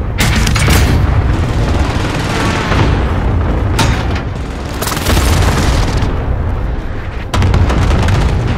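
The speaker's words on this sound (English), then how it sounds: "Position marked. Airstrike." Heavy airstrike explosions in the video game Call of Duty: Warzone: a dense run of loud, rumbling booms that follow one another for several seconds, each impact rolling into the next with little pause.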